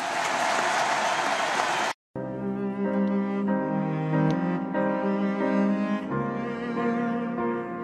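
Audience applause at a French public tribute, a dense, loud wash of clapping that breaks off abruptly after about two seconds; sustained music follows.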